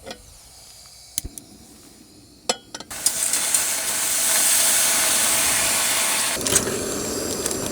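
Food stir-frying in a hot pan at a mountain camp in Scotland, opening with a few sharp clatters and knocks before a loud, steady sizzling hiss rises and holds, then eases slightly near the end.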